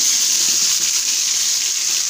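Ground masala for a South Indian chicken gravy is poured into hot oil and hisses in a loud, steady, close sizzle with no pauses.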